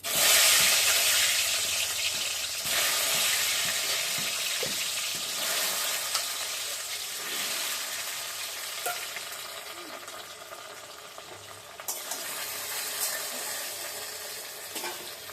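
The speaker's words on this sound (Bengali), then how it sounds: "এবার আমি মুখী কচুটা তেলে ছেড়ে দিচ্ছি" Taro (mukhi kochu) dropped into hot oil with a bay leaf, a loud steady sizzle of frying that crackles on and slowly eases over fifteen seconds, with occasional stirring clinks.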